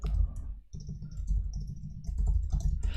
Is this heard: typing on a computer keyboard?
yes